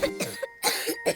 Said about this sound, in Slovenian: Kašljam.